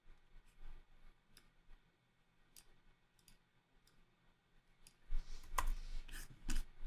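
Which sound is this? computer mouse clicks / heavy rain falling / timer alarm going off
computer mouse clicks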